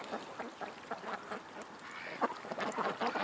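Ducks quack in a loose group outdoors, a scattering of short nasal calls at moderate distance over a soft ambient wash, with no talking.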